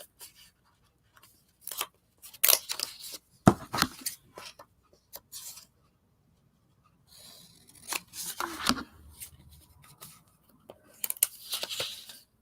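Scissors trim collage paper in short clusters of snipping and rustling, close and fairly quiet, separated by pauses of near silence.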